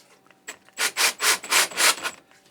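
Hole saw with a pilot bit driven by a drill at a 30-degree angle, cutting a rod holder mounting hole: a loud, close run of about six rhythmic grinding, rasping pulses, with no talk.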